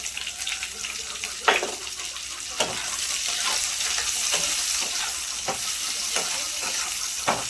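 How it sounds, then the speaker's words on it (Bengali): Two bay leaves sizzling and frying in hot oil in a home kitchen, a steady crackling hiss with occasional stirring clicks, close and fairly loud. "চলো এই দুটো তেজপাতা দিয়ে দিলাম। এগুলো একটু একটু হালকা করে ভেজে নেবো"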